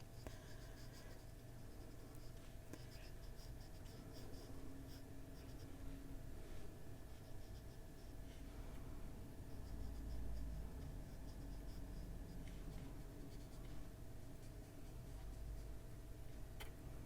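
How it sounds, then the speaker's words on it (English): Colored pencil laying a base coat on paper, a continuous soft scratchy scribbling of quick back-and-forth strokes, close but quiet, with occasional taps. "We're still going over all of this with a pencil, so we're just putting on base coat."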